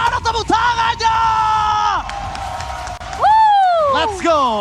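An esports crowd at a game between ONIC and AP Bren yells and whoops in loud rising and falling bellows. The voices swell and break off, with a brief drop in the middle before another surge of shouting.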